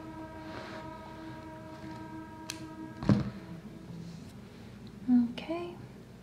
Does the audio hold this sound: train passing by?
yes